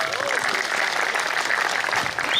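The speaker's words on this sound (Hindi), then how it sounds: "जोरदार तालियां पारस सर के लिए।" Loud, dense audience applause at a network marketing motivational seminar, a continuous wash of many hands clapping that stays steady from start to finish.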